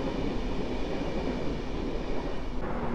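An EU160 Griffin electric locomotive and its train pass Warszawa Powiśle station, making a steady, broad rumbling roar that holds constant throughout.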